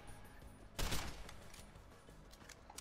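A burst of gunfire from the video game Deus Ex: Human Revolution, with one loud close volley followed by a few fainter scattered shots over a steady game background.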